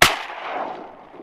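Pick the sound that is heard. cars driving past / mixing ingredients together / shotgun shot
shotgun shot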